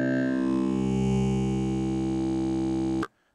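Sequential Pro 3 digital wavetable oscillator sweeping through vowel-like formant shapes, a rich buzzy sustained tone with shifting harmonics that holds steady for about three seconds and then cuts off abruptly into silence.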